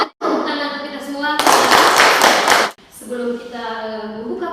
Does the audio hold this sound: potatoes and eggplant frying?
no